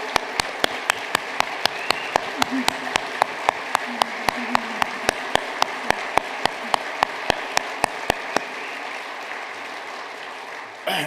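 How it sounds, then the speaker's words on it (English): At a business hall of fame event, a large audience applauds the state police with sustained clapping, while one close, sharp, regular clap stands out above the crowd until the applause stops. "I'd like for y'all to give them a round of applause"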